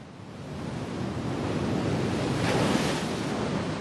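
Ocean surf rolls in as a continuous wash of breaking waves, with wind buffeting the microphone and a swell that grows louder toward the end; no voices.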